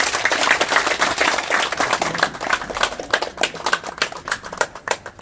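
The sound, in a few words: applause at opening ceremony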